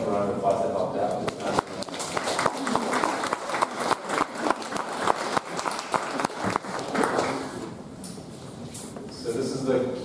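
An audience at a tech talk claps for volunteers, a scattered, uneven round of applause with distinct individual claps, mixed with some voices and ending with a speaker talking.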